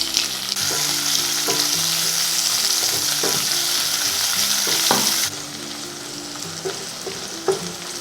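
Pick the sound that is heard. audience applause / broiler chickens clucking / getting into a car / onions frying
onions frying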